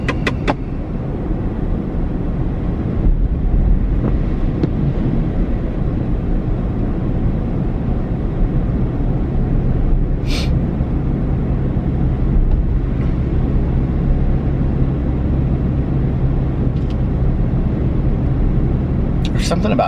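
A car driving on the road late at night, giving a steady, close low road and engine rumble that runs throughout, with faint traces of talk mixed in.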